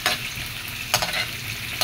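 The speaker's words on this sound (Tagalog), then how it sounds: "Sinabay ko na pagluto ang pagprito at pag-adobo ng kangkong." Fish frying alongside adobo kangkong cooking in pans makes a continuous close sizzle and crackle, with a few sharper bursts of spatter and the scrape of stirring over the steady hiss.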